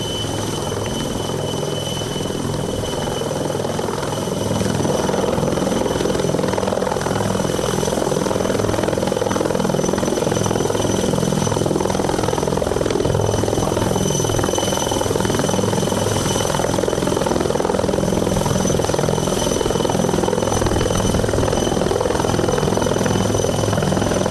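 An Air Force helicopter flies over a landslide rescue site at Chooralmala in Wayanad, its rotor and engine producing a loud, continuous thudding roar that holds steady throughout.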